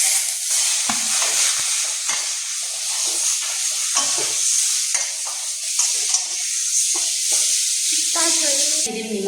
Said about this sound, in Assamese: তাৰপিছত মই তেতেলী ভিজাই ৰখা তেতেলীখিনি মানে গোটেইখিনি ইয়াতে দি দিম